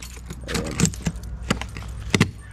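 Keys jangling in a parked car, several short metallic rattles and clinks in close succession, loud and near, with no talking.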